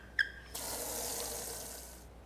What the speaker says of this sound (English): Maybe I'll water the plants.